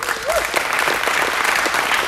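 Audience applause at an aviation gubernatorial town hall, steady dense clapping from a crowd filling the whole moment, loud and continuous without talk.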